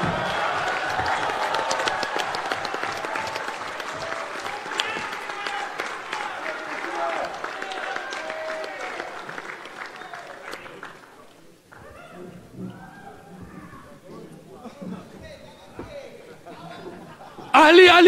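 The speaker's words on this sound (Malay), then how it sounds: "beri tepukan gemuruh kepada Datuk Seri Azmin Ali" Applause at a Bersatu Youth annual general assembly, a large crowd clapping for Datuk Seri Azmin Ali, dense and loud for about ten seconds amid chatter and some laughter, then fading to murmurs before a burst at the end.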